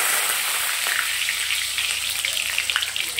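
Whole cardamom pods and cloves sizzling in hot oil: a bright, close, steady hiss that settles into lighter popping crackles toward the end.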